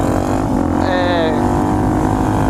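A Suzuki DR-Z dirt bike engine running during a ride near Phoenix, a loud steady drone with a brief rising whine partway through, close to the rider.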